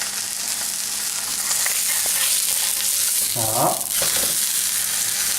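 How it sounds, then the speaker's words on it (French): Tournedos steak searing in a hot pan, a steady frying sizzle running throughout with brief clinks and a short spoken word over it. "Et je saisis mon tourneau. Voilà. Un petit peu de sel."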